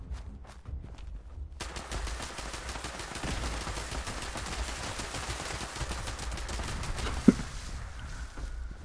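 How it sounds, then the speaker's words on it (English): Rapid gunfire bursts in a video game, with shotgun blasts in a dense, sustained volley and one sharp louder crack near the end, with faint footsteps underneath. "Just killing me with the shotgun."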